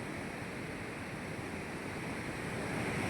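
The Dasan river at Chhatarpur after rain rushes over large rocks as a loud, constant broadband roar of flowing water, with no talk.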